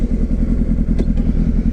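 A 2004 Honda CBR600RR motorcycle engine idles or runs with a rough, pulsing low rumble and a light mechanical clatter, close and fairly loud throughout.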